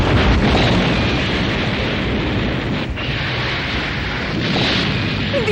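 A cartoon explosion as a ghost train's generator blows, heard as a sustained, loud roaring rumble with broadband noise that swells and churns throughout, with no voices over it.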